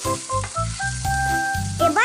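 Winter vegetables with salt and chopped ginger sizzle in a pan as they are stirred, a steady close frying hiss broken by short scraping strokes, with a faint tonal ring running over it.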